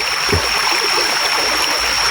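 A small river stream flows through a forest, a steady loud rushing and trickling of water throughout with no voices.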